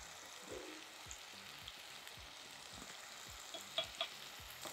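Sliced onions fry with salt in a pan, making a soft, steady sizzle with light crackles and faint scattered pops, quiet and without any speech.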